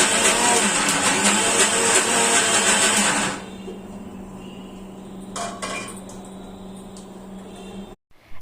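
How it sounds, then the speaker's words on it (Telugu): A mixer grinder churns thick cream into butter, whirring loudly and steadily for about three seconds before it stops, followed by quieter kitchen clinks and handling noises. "నీళ్ళేమీ పోయకుండా జస్ట్ ఇలా మీగడ మాత్రమే వేసుకుని మిక్సీ చేసుకున్నాం అనుకోండి"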